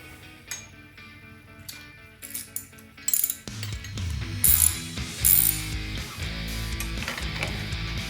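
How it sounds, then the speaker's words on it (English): A ratchet with a 5/8 socket tightens a bolt on a flathead engine, giving quick runs of close metallic clicks, sparse at first and then louder and denser, with some clanks of metal. "with our good old 5/8 socket, we'll go ahead and tighten this up"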